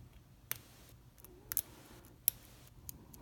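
A lock pick sets the pins of a Euro cylinder lock, giving a few faint, sparse metallic clicks spread over a few seconds against a quiet background.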